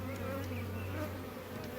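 Honeybees buzz steadily in an open hive frame during a split inspection for a laying queen, a close, continuous drone with a low steady hum and no talking.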